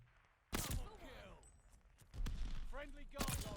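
Gunfire in Call of Duty: Vanguard rings out in sharp bursts, with a loud volley at the start and another near the end and scattered shots in between, while a voice talks over it.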